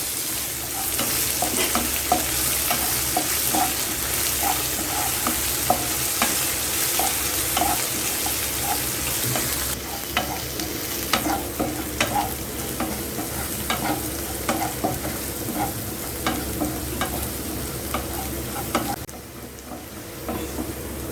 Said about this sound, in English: Then add finely chopped green chilies.